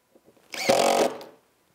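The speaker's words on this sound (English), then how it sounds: "I continue spinning and look for the next hole." A spinner wheel drives screws into the bottom shelf of a cabinet, giving a brief close whirring spin of about a second after a few faint clicks.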